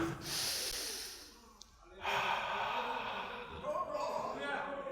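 A man demonstrates slow, deep breathing, drawing in long audible inhales and exhales close to the microphone, a soft pause between them, with faint room ambience behind.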